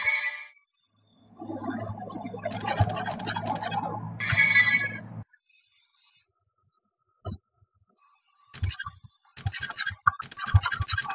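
Keys on a computer keyboard are pressed in quick clattering bursts, close and crisp, separated by pauses of near silence and a single isolated click, with a muffled low thump in the first stretch.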